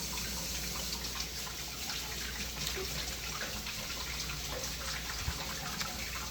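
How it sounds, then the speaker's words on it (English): Hands are washed under a running kitchen tap after handling raw turkey meat, a steady close splashing hiss of water that continues without a break, with no talking. "so I'm washing my hands"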